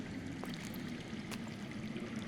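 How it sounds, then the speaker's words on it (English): Underground water in a Game of Thrones video game flowing as a soft, continuous stream, faint and distant, with a few small drips and splashes on top. "I hear water. From underground."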